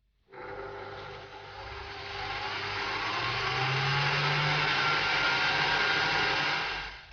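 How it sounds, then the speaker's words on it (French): An electric mixer whips liquid cream in a bowl at fairly high speed, starting abruptly and holding a steady, loud whirring drone that swells slightly as the cream thickens, then cuts off. "Et je mets en route sur une vitesse relativement élevée. Et je monte cette crème en crème fouettée."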